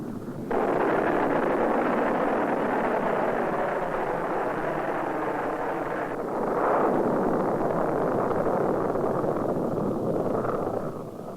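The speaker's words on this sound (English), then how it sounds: "in 1944, the first German V-2 rocket rumbles skyward" A German V-2 rocket launching in 1944 gives a sustained, loud broadband roar and rumble that holds steady for the whole stretch, swelling slightly midway as it climbs skyward.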